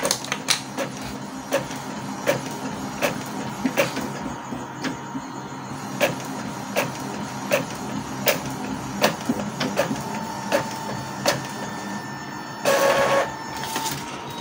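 An Epson L3110 inkjet printer making a full-page A4 photocopy whirs and clicks in a steady repeating rhythm of mechanical ticks, close and clear, with a short louder grinding burst near the end.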